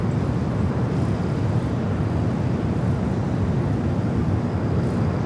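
American Airlines A321neo airliner departing Los Angeles International Airport, a steady loud jet engine roar with broadband rumble that holds evenly throughout, with no speech.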